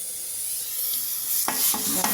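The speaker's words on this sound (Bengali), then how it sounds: "এবার এটাকে ভালো করে কষাতে থাকবো মাটন ফ্যাট দিয়ে" Potatoes for aloo dum stir-fried in mutton fat, giving a continuous hissing sizzle that swells louder partway through, with a few distinct scraping strokes of the spatula near the end.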